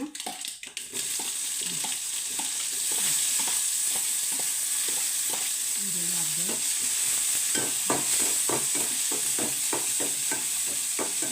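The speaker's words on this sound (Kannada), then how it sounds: "ಈರುಳ್ಳಿ, ಕರಿಬೇವು, 1-2 ಗಾಂಧಾರಿ ಮೆಣಸು ಹಾಕ್ತಾಯಿದ್ದೀನಿ." Onions, curry leaves and a couple of small gandhari chillies fry in hot oil in a pan, giving a steady bright sizzle broken by repeated scraping taps from a stirring spoon.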